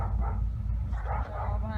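Dogs barking in short yips and bow-wows near a 1977 Mercedes-Benz W123 300D during cylinder head removal, under a steady low hum and someone talking.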